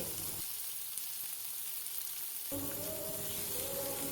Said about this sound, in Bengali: কাজু কিশমিশ আর ক্যাপসিকাম ভালোভাবে ভেজে নিতে হবে